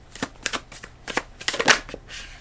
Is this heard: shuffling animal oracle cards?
yes